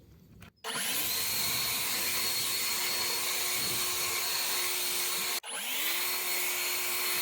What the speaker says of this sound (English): One of the other reasons I bought this blower was so that I could clean up after I mowed my lawn